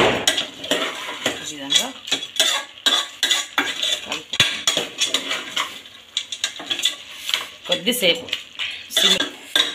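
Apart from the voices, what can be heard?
stirring goat head curry with chili, turmeric, ginger, garlic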